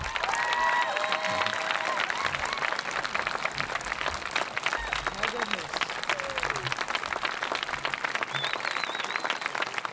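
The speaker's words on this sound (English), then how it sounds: "we gave Miss Melanie Zielinski a nice round of applause" A graduation audience applauds a retiring teacher, and the steady crowd clapping carries on for about ten seconds, dense and fairly close, with some low voices and movement underneath.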